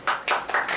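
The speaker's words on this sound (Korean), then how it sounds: "박수 한번 하죠" An audience claps in a lecture hall on meditation and concentration, four quick, crisp claps in an even rhythm, close and fairly loud.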